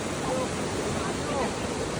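A waterfall in Palakkad roars with a steady, dense rush of flowing water, loud and continuous throughout.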